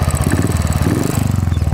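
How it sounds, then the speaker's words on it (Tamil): A Royal Enfield Thunderbird 350 motorcycle engine idles up close, a loud, steady, rhythmic thumping beat with no talking. "ஃபர்ஸ்ட் இன்ஜின் சவுண்ட் பார்க்கலாம்."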